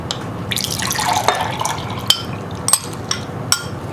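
Liquid mango mixture pours and splashes into a container, with a gurgling flow and a few sharp drips and clinks near the end.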